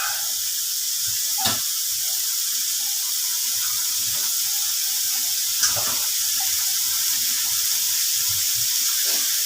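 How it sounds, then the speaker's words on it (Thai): Water hisses steadily into a pan of stir-fried pork with long beans, a continuous sizzling wash with a few faint clinks, alone and close. "คุณผู้ชมใส่น้ำไปหน่อยมันจะแห้ง"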